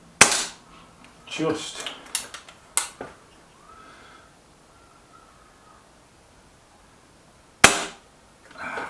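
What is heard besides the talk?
BSA R12 SLX air rifle firing pellets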